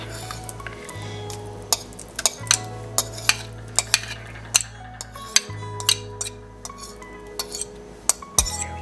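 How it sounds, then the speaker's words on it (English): A metal spoon stirs mashed strawberries into a bowl of plain yogurt, giving repeated sharp clinks and scrapes against the bowl at an irregular pace over a low steady hum. "I'm going to put it into my bowl with my plain yogurt"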